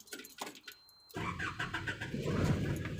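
A Renault Mascott 3.0 dCi tipper truck's diesel engine cranks and catches after a second of near silence with faint clicks, then settles into a loud, steady idle that runs close by to the end.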